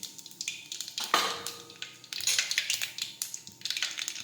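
Mustard seeds, cumin and asafoetida crackle and sizzle in hot oil in a home kitchen pan, with a sharp burst of popping near the start and steady spitting and crackling through the rest.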